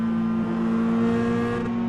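A race car's engine drones steadily and loudly with a sustained throttle tone, heard alone in an iRacing session at Summit Point.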